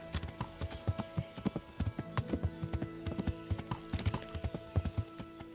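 A horse being ridden in the medieval game Kingdom Come: Deliverance, its hooves clip-clopping in a steady, rhythmic gait for the whole stretch, moderately loud over a low background hum.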